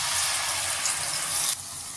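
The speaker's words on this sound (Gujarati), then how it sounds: "હવે આમાં મેં 1 નંગ ટમેટાની પ્યુરી કરી લીધેલી છે એ ઉમેરીશું." Tomato puree hits a hot pan of oil with dried red chilies and ginger-chili paste, giving a loud, close, dense sizzle that abruptly drops to a softer steady hiss after a second and a half.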